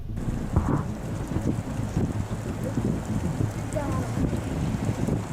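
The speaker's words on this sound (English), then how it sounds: "the tornado approaches the intersection of Interstate 65 and Highway 24" A tornado near the intersection of Interstate 65 and Highway 24 brings steady roaring wind buffeting the microphone, with low rumbling beneath and a couple of faint higher tones, loud and unbroken throughout.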